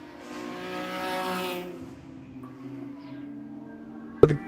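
A loud race car engine at Road Atlanta during a WRL endurance race swells and fades as it passes, a harmonic-rich drone that drops away, ending with a sharp brief knock.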